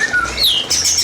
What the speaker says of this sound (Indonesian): ini nih, burung murai.